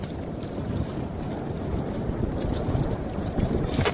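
Wind gusts over Namyang lake during a fishing outing, buffeting the microphone with a constant low rumble that swells and flutters for several seconds, with no talk.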